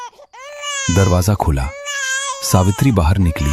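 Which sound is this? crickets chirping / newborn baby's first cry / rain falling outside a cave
newborn baby's first cry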